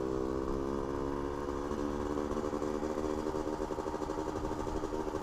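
A Suzuki RK Cool 110 two-stroke motorcycle engine runs steadily close by, warming up with the choke on, giving a continuous buzzing drone with no pauses across the whole clip.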